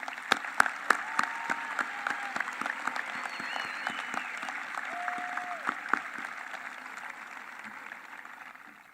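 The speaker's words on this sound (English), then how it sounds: "please give a big round of applause and congratulations to all of our local award scholarship winners" Sustained audience applause at the Shawnee High School Class of 2021 graduation ceremony, with many close, sharp claps over a dense wash of clapping that holds steady for several seconds before fading slightly, with a few whoops and whistles.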